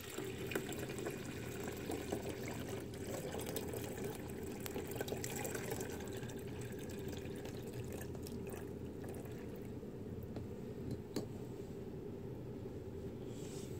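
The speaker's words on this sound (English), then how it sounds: "I'm going to pour it right here." Water pouring from a coffee pot in a steady stream with gurgling and splashing into a container, continuous and close, gradually changing in tone as it fills.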